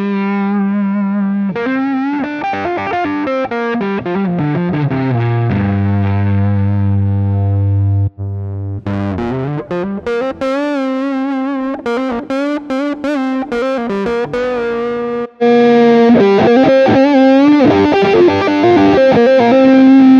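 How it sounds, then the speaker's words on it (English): Electric guitar played through an overdrive pedal on the Neural DSP Archetype Petrucci amp sim, loud sustained chords and single-note phrases with mild distortion, a brief pause midway, then denser strummed chords. "Overdrive is that it's mostly punching up the input with a little bit of distortion"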